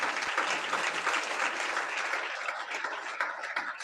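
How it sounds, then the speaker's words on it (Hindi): A church congregation claps together in praise at a Hindi-language worship service, a dense, steady wash of applause from many hands that holds for several seconds and fades slightly toward the end. "एक बार परमेश्वर के लिए ताली बजाइए।"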